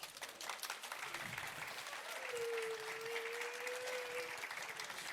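A crowd applauds steadily for several seconds, with dense, even clapping that holds at a constant moderate level throughout.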